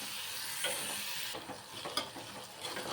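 Cucumber pieces softening in a hot pan, a steady close sizzle with scraping stirs and small clinks of a spoon against the pan, no voices.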